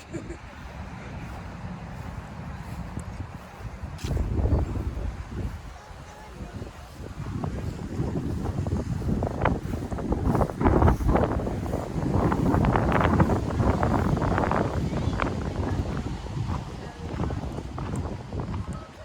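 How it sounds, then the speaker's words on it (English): Gusty wind buffets the microphone in rising and falling rumbles outdoors at a living history farm in Conway, South Carolina, with faint background activity and occasional knocks beneath it. "It's very windy out here today."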